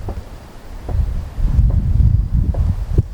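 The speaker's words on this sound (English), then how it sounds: "you still might be able to hear some wind" Wind buffets a MOVO VXR10 camera microphone outdoors in low, rumbling gusts that swell and fade, with a few faint rustles mixed in.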